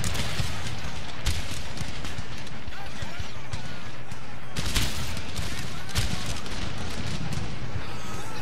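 Repeated musket volleys and scattered gunfire crackle through a battlefield in Empire: Total War, with sharp bursts punctuating a continuous din of shots and a voice talking over it.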